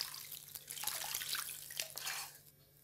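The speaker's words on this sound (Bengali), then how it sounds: "আমি দিয়ে দিলাম এবার জল।" Water is poured into a cooking pot of drumstick curry, a soft, fairly faint splashing pour with a few drips that trails off near the end, heard alone without talk.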